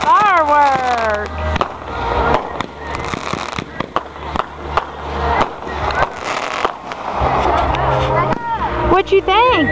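A fireworks display pops and crackles in repeated sharp bursts at close range, while people talk and exclaim throughout.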